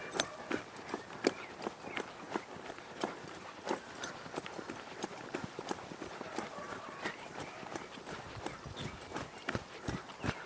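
A horse walks forward during a training session, hooves clip-clopping in a steady, regular rhythm on firm ground, moderately close with faint background noise.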